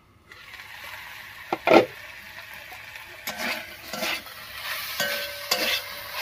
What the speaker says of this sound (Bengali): এদিকে ঢেঁকি শাক আলুটা বেশ কিছুক্ষণ রান্না হয়ে বেশ একটু ভাজা ভাজা হয়ে গেছে।